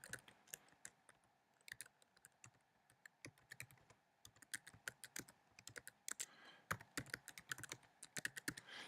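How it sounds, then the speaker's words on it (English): Quiet computer keyboard typing, with rapid irregular key clicks in short bursts, close but faint. "You're going to type in your work email."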